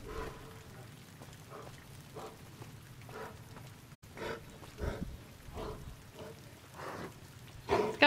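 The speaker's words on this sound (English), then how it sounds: "Oh, it's raining now." Rain falling outdoors in Zion, a faint, steady patter with a few slightly louder bursts of drops, and no voices.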